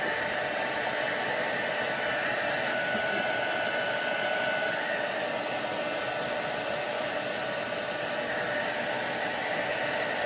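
Blow dryer running steadily at close range, a loud continuous whooshing hiss with no breaks or variation throughout.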